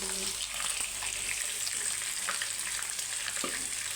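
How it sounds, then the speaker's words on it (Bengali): Small hilsa pieces sizzle in hot oil in a pan, a continuous close frying hiss with light stirring scrapes over a low background hum. "মাছগুলো দিয়ে দিচ্ছি, এখন ভাজা নেবো হালকা করে"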